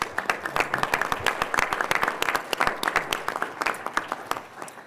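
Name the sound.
audience applause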